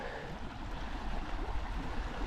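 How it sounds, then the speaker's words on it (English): Steady broadband rush of running water, continuous and fairly close, like a small stream flowing over rocks, with no voices. "Like nice running water,"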